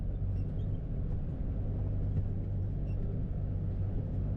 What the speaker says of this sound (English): Drive the truck through some horse poop.